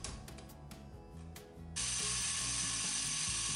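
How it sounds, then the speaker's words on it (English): A Lego XL motor drives the gears of a Lego bubble machine, giving a steady mechanical whirring with ratcheting clicks that turns into a louder, continuous grinding hum partway through. "Okay, back to the XL motor."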